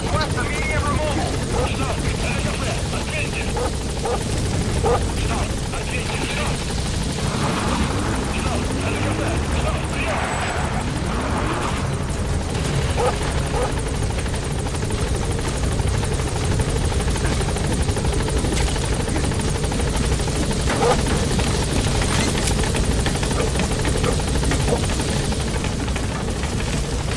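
Helicopter rotor and engine drone hovering steadily over a landing zone in a video game, loud and continuous throughout with speech over it.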